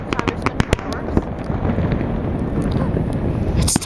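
Canada Day fireworks over Halifax in 2009 go off as a string of sharp bangs and crackles at a distance, mixed with wind buffeting the microphone and people chatting nearby.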